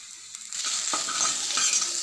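Grated coconut and sliced shallots roast in a pan over a medium flame for a fish curry, giving a steady dry sizzle under close scraping stirs.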